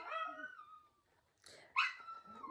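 Several dogs nearby let out howling whines and a burst of sharp overlapping barks and yelps, in short uneven bursts with brief quiet between them and no talking.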